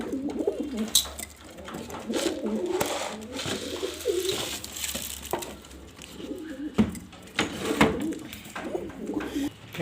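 Pigeons cooing close by in a loft, soft repeated throaty coos layered over continuous shuffling, fluttering and faint background noise.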